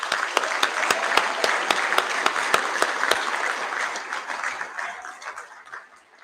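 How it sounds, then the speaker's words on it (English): Audience at a Year 12 and 13 school prize giving assembly claps steadily for students, a crisp, even round of applause that gradually thins out and fades toward the end. "Let's give these students a round of applause."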